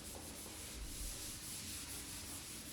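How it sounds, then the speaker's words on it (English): Drywall compound is sanded off a wall with a continuous, even scratchy rubbing that holds at a steady level throughout, close and without talk. "Sand round and round and rub off your the bad compound that is on the wall."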